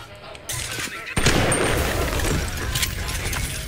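Exploding buckshot fired from a shotgun in the Bioshock video game, an abrupt loud blast followed by a dense rumbling, crackling burst of explosions that sustains to the end.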